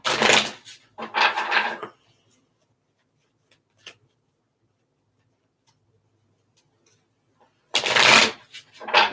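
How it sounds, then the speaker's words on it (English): Tarot cards being shuffled in two quick riffling bursts, a long quiet pause with a faint tap, then another burst of shuffling near the end. "Shuffle these cards here."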